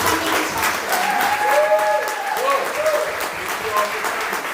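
Audience at an artist talk giving a round of applause, dense sustained clapping from many hands filling the room, with voices and a few whoops mixed in.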